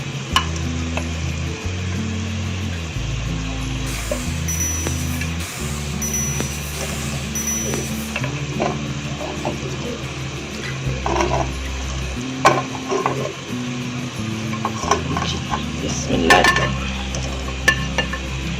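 Carrot murabba simmers in sugar syrup over a medium flame, giving a steady bubbling sizzle with repeated stirring scrapes and occasional clinks of a utensil against the pot, close and moderately loud with no talking.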